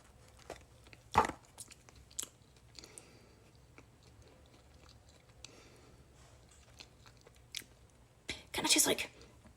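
Quiet chewing and a few crunchy bites as someone eats cake topped with lemon zest icing, with soft mouth noises between louder bursts near the start and end.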